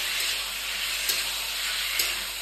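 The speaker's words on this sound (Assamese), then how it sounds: "ধুনীয়াকে ভাজি দিছো" Meat sizzling steadily in a hot pan, a constant bright crackling hiss with a few small pops and no voices.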